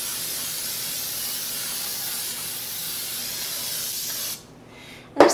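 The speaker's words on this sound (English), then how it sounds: "So, quick spray." Nonstick baking spray containing flour hisses steadily into a bundt pan for about four seconds, close and fairly loud, then cuts off abruptly, followed by a brief clunk.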